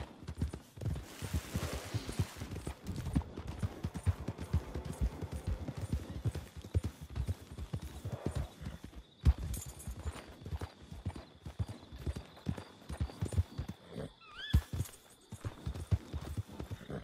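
A horse's hooves clip-clop steadily in the Red Dead Redemption 2 video game, a close, continuous trotting rhythm lasting about seventeen seconds over faint ambient background.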